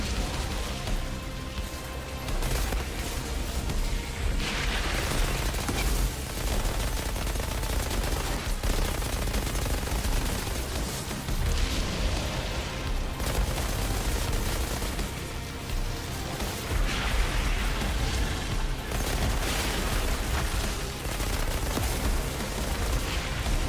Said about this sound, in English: It summons a violent and homing firestorm to deal damage and inflict an extra crispy burn on enemies.